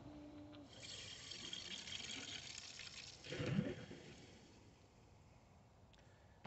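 Water rushes into a residential sprinkler system as its lower and second ball valves are opened slowly outdoors, a steady hissing flow swelling to a brief louder surge midway before easing off.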